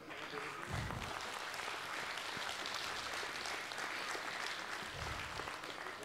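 A concert audience applauding steadily throughout, dense clapping from a crowd with a couple of low bursts of laughter or cheering mixed in, fairly distant and even in level.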